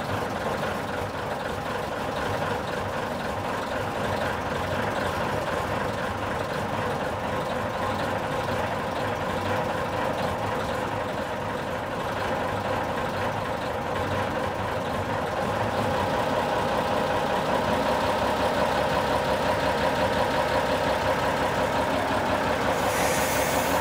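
Heavy engine of an M53/59 Praga Czechoslovak self-propelled anti-aircraft vehicle idles steadily with its gearbox in neutral, a dense low rumble and rattle held close and loud for the whole stretch, rising slightly toward the end, with no talk over it.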